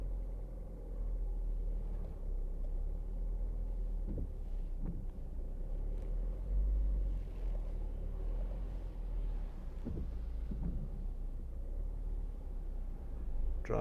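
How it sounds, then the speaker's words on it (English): A 2014 Ford Focus 1.6 Titanium backs slowly into a parking space under automatic parking assist, heard from inside the cabin as a steady low engine and road rumble with a few soft thumps. "searching for parking space found, release steering, select reverse gear, drive backwards."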